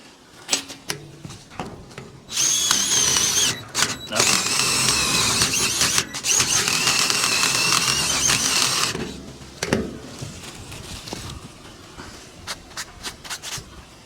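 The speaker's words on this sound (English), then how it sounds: "Let my drill bit do some side cutting." Power drill whining loudly as its bit side-cuts a hole for mounting a solar panel, one long continuous burst of grinding and squealing in the middle, close by, with scattered clicks and handling noise before and after.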